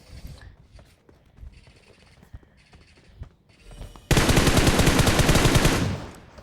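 Gunfire from the mobile battle-royale game PUBG Mobile: quiet scattered in-game noises give way to a sudden loud, sustained burst of rapid automatic fire lasting about two seconds before cutting off.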